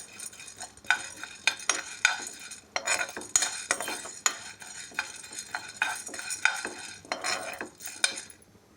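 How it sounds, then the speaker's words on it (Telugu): Sorghum grains dry-roasting in a pan, stirred continuously with a utensil, giving close rattling scrapes and clinks in irregular bursts over a faint sizzle. "వేడెక్కుతుంది ఇలా జొన్నలన్నీ బాగా వేడెక్కిందాక కలుపుతూ ఉండాలండి."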